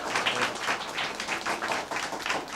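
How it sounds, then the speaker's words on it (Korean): An audience at an anniversary forum session applauds steadily, a dense, even wash of clapping that holds at a constant level throughout without a break. "박수 부탁드리겠습니다"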